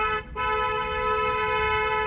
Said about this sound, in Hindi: अब यहाँ पे एक लॉन्ग हॉर्न बजाओ, कंटिन्यू